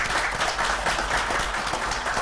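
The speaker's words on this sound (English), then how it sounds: "Give them a round of applause." Brief applause from a city council meeting audience in Bastrop, Louisiana, greeting the council candidates, a steady wash of many hands clapping at moderate volume.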